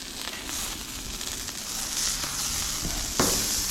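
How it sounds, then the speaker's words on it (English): Salmon sears and sizzles in a hot pan alongside tomatoes and capers, a loud steady frying hiss with brief stirring rustles as the fish is tossed, and no voices. "We're going to go ahead and give the salmon a toss."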